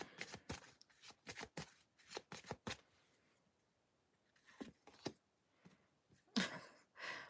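Tarot cards being shuffled and drawn, a quick run of close crisp riffling slaps, a pause, then a few softer card flicks and a sharp final snap.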